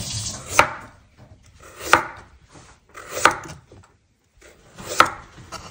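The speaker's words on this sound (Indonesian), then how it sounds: "Motonginnya tipis-tipis" Wild apples are thinly sliced with a knife, four distinct chopping thuds landing on a board at a slow, even pace, close and crisp with quiet gaps between cuts.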